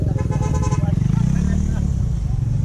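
A motorcycle rounds a curve with a steady, loud engine drone that shifts in pitch as it passes close by. Voices can be heard talking alongside it.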